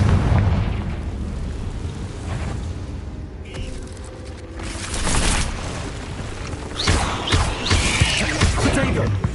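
A Confringo spell cast in Hogwarts Legacy sets off a fiery blast, with booming bursts and mechanical creaks among the game's loud effects, mixed with other spell sounds.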